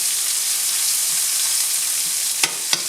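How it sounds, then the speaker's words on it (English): Onion sautéing with eggplant in a frying pan gives a steady, close sizzle throughout, broken near the end by a couple of sharp stirring scrapes; no one speaks. "I'm just sauteing the onion."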